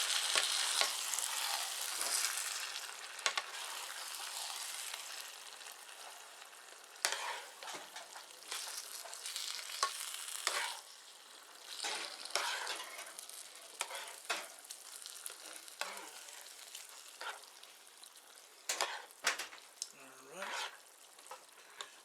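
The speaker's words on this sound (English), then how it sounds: "I'm gonna give this one final stir." Taco stuffed pepper filling with corn being stirred in a pan, a steady close sizzle broken by scraping spoon strokes and clatters, with brief voices at times.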